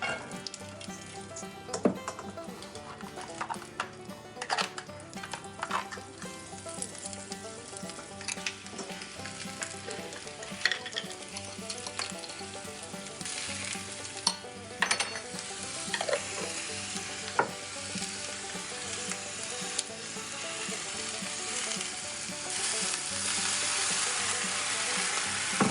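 Green beans with garlic, lemon and leftover bacon fry in a pan, giving a steady, close sizzle with scattered clatter from stirring and tossing that builds slightly toward the end; no voices.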